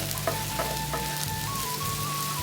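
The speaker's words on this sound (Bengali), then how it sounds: "পাইপে নিয়ে দিলাম তেল আর কুচানো পেঁয়াজটা দিয়ে দিলাম" Chopped onion frying in hot oil in a pan, a steady close sizzle with a few light clicks and scrapes over it.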